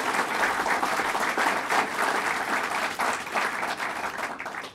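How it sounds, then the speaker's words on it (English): An audience at a governor's announcement on combating heroin use breaks into applause, a full, steady roar of many hands clapping that fades slightly at the end. "Let's give him a round of applause"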